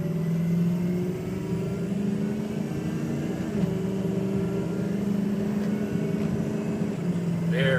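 A 2004 Ford F250 Lariat 4x4 diesel pickup truck with a new EGR accelerates while driving, its low, steady engine drone heard from inside the cab.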